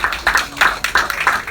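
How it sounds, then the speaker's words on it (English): A few close, sharp hand claps at a tribute event land in an uneven rhythm, loud and distinct rather than blending into a full crowd wash. "Give Brother Blueprint a well-deserved round of applause."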